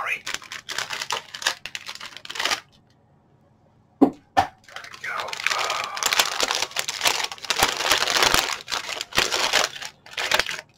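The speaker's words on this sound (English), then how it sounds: "there will be, as previously, a lot of crinkling sound" Plastic bags of LEGO Star Wars 75342 Republic Fighter Tank parts crinkle and rustle close up in a quiet room, with bursts of handling broken by a short silent pause and a few sharp taps.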